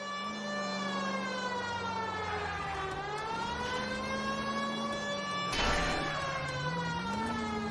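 A police car siren in the L.A. Noire video game wails loud and steady, its pitch sweeping down and back up in slow cycles with a brief rush of noise partway through.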